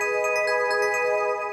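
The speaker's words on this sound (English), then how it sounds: "Then on top of that, we have this bell preset from Nexus." Bell synth preset from Nexus with delay and reverb, layers 1 and 3 switched off, rings as a dense sustained chord with soft repeated chimes smeared into a long echoing wash.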